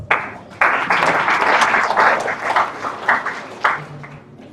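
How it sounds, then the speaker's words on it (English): A crowd at a disability summit in Kaduna State breaks into applause, a dense burst of clapping that swells, dips and rises again before fading out. "I think you deserve a round of applause."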